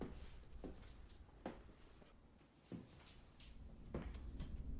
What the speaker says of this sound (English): Dog's just like, let me just open this door real quick.